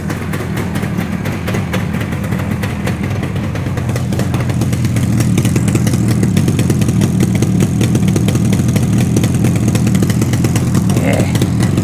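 A Yamaha RD400 motorcycle engine runs after an oil pump rebuild, idling steadily nearby with a busy, rapid firing rhythm that grows slightly fuller partway through.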